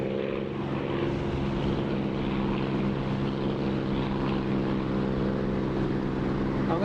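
Rotor and turbine drone of helicopters in a DCS or War Thunder flight simulator game, a steady loud continuous engine hum with layered low tones, running alone for the whole stretch.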